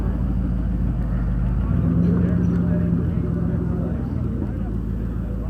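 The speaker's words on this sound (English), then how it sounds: "See, that's what my car should sound like" A car engine idling and rumbling through its exhaust at an outdoor car show at the Lancaster, Ohio fairgrounds, a steady low drone with a brief rev partway through, while people talk nearby.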